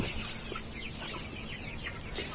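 Sonali chickens on an earthen-floored farm at 45 days old, clucking softly and steadily as a low, continuous flock murmur with scattered short calls, no talking.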